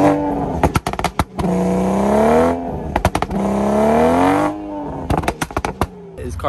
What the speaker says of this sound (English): he's gonna give us a few exhaust clips to end this video